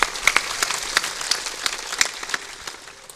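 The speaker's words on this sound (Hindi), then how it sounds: "बजा दो ताली, क्यों पछताते।" A crowd at a religious discourse gathering claps scattered and uneven, a moderately loud patter of many hands that thins out and fades over a few seconds.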